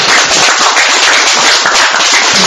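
Audience clapping at a Korean rally, dense continuous applause that stays loud and close throughout with no talk.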